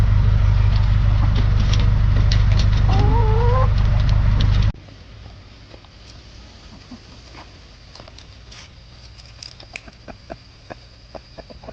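Chickens clucking in a chicken run, a few nearby clucks and a short call over loud steady rumble, then quieter outdoor ambience with scattered faint clucks and pecking sounds.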